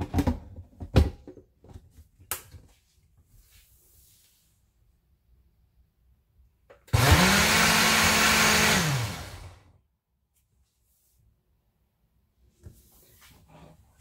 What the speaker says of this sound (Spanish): Ya que licué la crema con el queso crema y la leche condensada